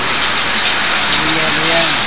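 Hail, or ice rain, falls in Abha, Saudi Arabia, as a dense, steady hiss of pelting pellets striking surfaces close by, with faint voices murmuring beneath it.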